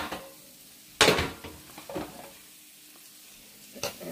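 Pieces of king oyster mushroom sizzle in a hot pan, with soft frying crackle and a few clanks and scrapes of a utensil against the pan, close and fairly quiet, no talking.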